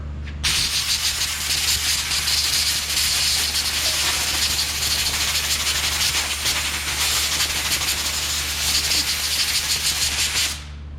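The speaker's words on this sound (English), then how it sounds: "easy way to get this clean is air blower. You take your air blower" A compressed air blower hisses in one loud, steady blast lasting about ten seconds as it blows metal filings off a magnet, starting and cutting off abruptly.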